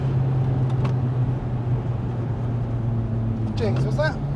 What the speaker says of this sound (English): Yeah, that was full throttle.